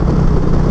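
A 2023 Indian Pursuit touring motorcycle engine revving on the throttle in the rain, a brief loud burst of throbbing engine pulses heard up close.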